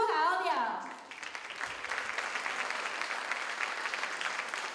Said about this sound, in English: Let's give a round of applause for Tru Hao Liao.